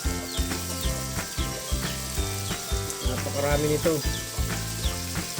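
Bottle gourd and eggplant sizzle steadily as they are sautéed together in a pan, a continuous frying crackle heard under prominent background music with brief speech.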